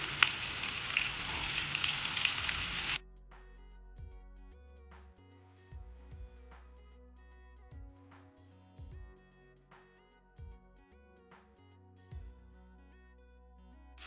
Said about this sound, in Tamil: கருவேப்பிலை, பச்சை மிளகாய் ரெண்டுமே ஆட் பண்ணிக்கலாம்.